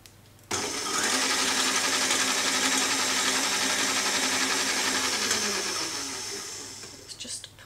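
An electric mixer starts abruptly and runs steadily at low-medium speed, whipping egg whites with cream of tartar and salt for macarons, a loud continuous whir that slowly fades toward the end.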